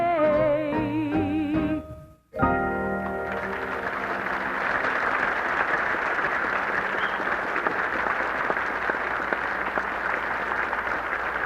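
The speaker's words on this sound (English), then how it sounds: "Gee, Ada, did you hear all that applause?" Studio audience applause breaks out after a cheerful song tribute ends, a dense, steady wash of clapping that swells in right after the final sung notes and holds loud and even to the end.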